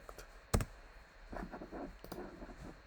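A date being typed on a computer keyboard, one sharp click followed by a few soft, quiet key taps spread over a couple of seconds.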